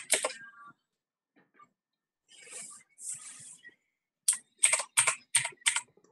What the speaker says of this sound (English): Who's typing so loud?